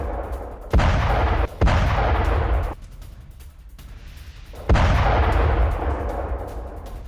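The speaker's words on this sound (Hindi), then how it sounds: "बड़े धमाके के बाद आग के शोलों में तब्दील हुआ टैंक" A Russian tank blows up under a Ukrainian drone attack. Three loud, sharp blasts come seconds apart, each trailing off into a rumbling roar, with a lower rumble between them.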